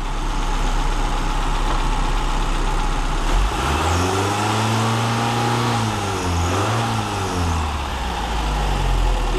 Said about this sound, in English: watch what happens when I rev it